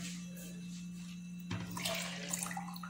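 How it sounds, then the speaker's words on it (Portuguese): Water poured into a bowl while making gelatin ice cream, a steady splashing pour that grows livelier partway through, close and moderately quiet under a constant background hum. "Só mais um chiquinho de água a mais."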